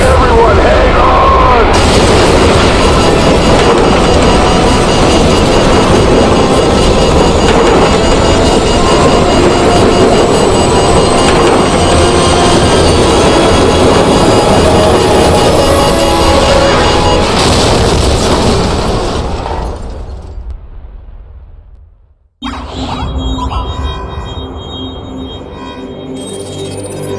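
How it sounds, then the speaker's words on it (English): Nuclear blast in the video game Call of Duty 4: Modern Warfare: a massive, roaring broadband rumble that stays loud for nearly twenty seconds, then fades into sudden silence before quieter sounds return. "What appears to be an explosion of epic proportions."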